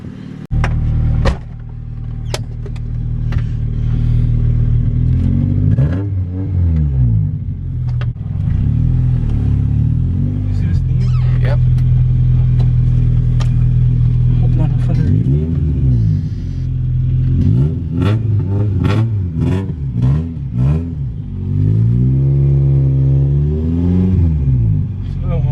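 A 1998 Honda Civic driving, its engine revving up and down in repeated rising and falling sweeps, loud and close from inside the car, with people talking over it.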